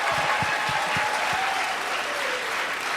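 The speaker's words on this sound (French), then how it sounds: "Ah non, ça mérite des applaudissements." A studio audience on a Quebec reality show breaks into sustained applause, a continuous, even roar of many clapping hands at close range with no pause.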